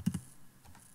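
A few quick keystrokes on a computer keyboard, two close taps followed by fainter clicks, quiet and alone.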